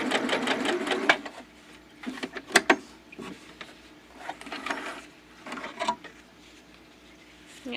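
A sewing machine runs a 4.5-length top stitch in several short bursts of rapid mechanical whirring, separated by brief pauses, close and clear.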